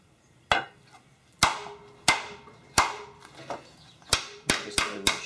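A bat hammer strikes sheet metal in about ten sharp, close blows, each a crisp slap with a short ringing tail, spaced unevenly and coming quicker toward the end.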